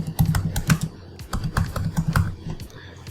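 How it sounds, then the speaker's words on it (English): A command is typed into a terminal on a computer keyboard: a close, quick run of crisp key clicks in uneven bursts, with no other sound. "I'll just go to the terminal and I'll just write Ionic Serve."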